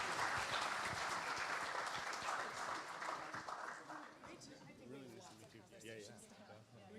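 Audience applause for symposium panelists fills the room at the Berkeley Space Symposium, a dense, steady clapping that stays loud throughout with some crowd chatter mixed in, easing slightly toward the end as voices become more noticeable.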